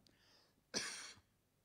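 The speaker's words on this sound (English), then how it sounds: "is it annoying you, the cough, by the way?" A single short cough in a quiet room, faint and brief, preceded by a soft breath.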